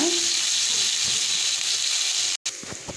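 Grated coconut, mint, coriander and curry leaves sautéing in a pan for a mutton curry masala, a steady close sizzle and hiss with a brief cut and faint clatter near the end.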